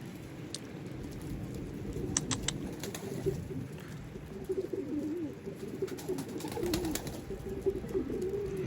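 Soft, repeated Mardin pigeon coos close by as a young pigeon is fed, with occasional wing flutters and faint clicks in a quiet background.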